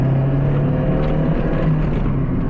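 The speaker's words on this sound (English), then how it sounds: "There's so much rattling in here." Inside a moving Mazda Miata, a loud steady engine and road drone fills the cabin with faint rattles mixed in, continuous with no talk.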